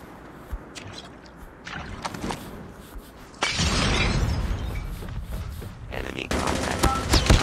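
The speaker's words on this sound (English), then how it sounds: "I was laying down covering fire" Gunfire in Call of Duty Mobile during a Search & Rescue multiplayer match, scattered sharp shots and bursts that swell into sustained heavy firing, loud and continuous, with faint voices underneath.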